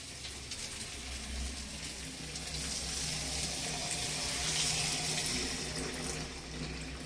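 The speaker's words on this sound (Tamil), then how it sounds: "இப்போ கொஞ்சம் தண்ணியாகவே நம்ம கரைச்சி இதில் ஊற்றுவோம்." Diluted tamarind water pours into a pot of thick thuthuvalai kuzhambu in a home kitchen, giving a steady, close watery splash and trickle that lasts several seconds with no talk.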